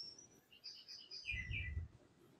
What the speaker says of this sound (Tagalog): Ang laking ibon nun ah.